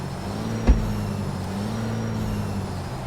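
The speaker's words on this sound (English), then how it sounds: "Make sure it's in neutral, rev it so you can hear the engine." Simulated heavy truck with a Cummins engine and manual transmission idling in neutral in American Truck Simulator, a steady low diesel rumble with one brief thump and a faint high whine, close and alone.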